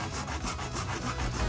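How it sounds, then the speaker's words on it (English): A foam sanding block with a Velcro-backed sanding pad rubs over a 3D-printed part in steady back-and-forth strokes, close and continuous, with no voices. "This is great for general purpose sanding of large and small prints."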